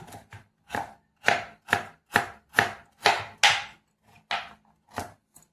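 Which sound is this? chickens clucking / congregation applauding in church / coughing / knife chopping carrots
knife chopping carrots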